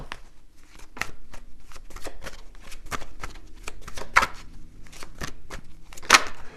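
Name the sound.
shuffling tarot cards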